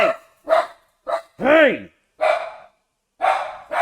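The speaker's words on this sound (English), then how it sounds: "what are you doing? You never bark like this." A dog barks in several sharp, loud bursts close by, with pauses between them, while someone talks to it in between barks.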